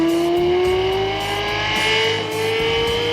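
Lexus LFA V10 sports car engine heard from the cabin, a loud sustained high-pitched wail that climbs steadily in pitch as the car accelerates, with no talking.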